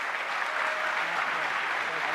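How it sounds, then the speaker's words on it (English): Sustained applause from an audience after a talk by a state investigation bureau deputy director, an even, moderately loud wash of many hands clapping that carries on for a couple of seconds. "So let's give him one more round of applause."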